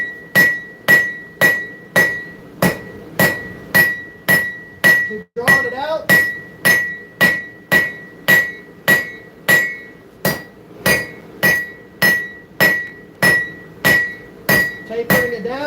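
Steady, evenly spaced hammer blows ring on a steel anvil while metal is forged and drawn out into a taper, about two strikes per second with a bright metallic ring, close and loud throughout, with one brief pause midway.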